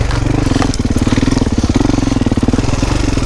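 A two-stroke motocross bike, about a 450, revs hard on a dirt trail, its loud, rasping engine buzzing continuously close by with rapid throttle surges and no talking.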